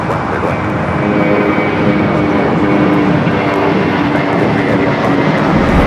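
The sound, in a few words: heavy Boeing 777 jet aircraft departing LAX runway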